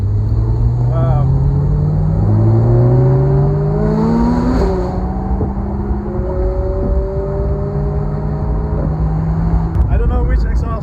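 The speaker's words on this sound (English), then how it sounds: "I don't know which exhaust it is, but it is crazy loud" A Porsche 991 GT3 RS with an iPE exhaust driving in a convoy of Porsches, loud and near, its engine note climbing and shifting through rising pitched sweeps with a constant roar beneath.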